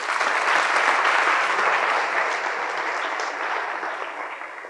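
An audience at an IAS academy career talk breaks into sustained applause, a dense steady clapping that stays loud and fades slightly toward the end, with no speech over it.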